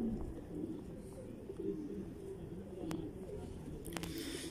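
Hino pigeons on a rooftop coo softly and intermittently against a faint outdoor background, with a few sharp clicks or taps among the calls.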